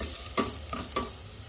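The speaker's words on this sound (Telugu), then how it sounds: "కొద్దిగా ధనియాల జీరా పొడి, చిటికెడు పసుపు, కొద్దిగా ఉప్పు వేసి వేయించండి." Coriander-cumin powder, turmeric and salt frying in hot tempering oil for a green mango and leaf dal, a steady sizzle broken by three quick scraping stirs, close and moderately loud.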